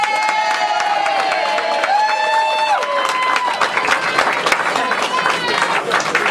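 Rugby fans fill a clubhouse bar after a Keighley Cougars against Rochdale Hornets match, making a loud, steady roar of cheering, whoops and clapping with voices blended into the din.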